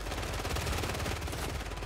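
Dense, rapid gunfire from a video game shooter rattles continuously as an unbroken automatic burst, loud and up front with no talk over it.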